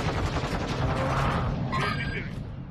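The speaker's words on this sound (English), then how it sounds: "You getting shot at from the right." Gunfire crackles in a Call of Duty Warzone 2.0 match, a dense rattle of shots over the first two seconds with a mechanical clank near the end, fairly loud and close, fading slightly at the close.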